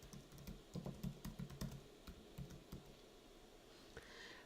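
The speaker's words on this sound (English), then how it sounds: "I'm going to type in what I want to put there" Someone types subtitle text on a Mac computer keyboard, making a quiet, close series of irregular keystrokes in quick clusters with short pauses between them.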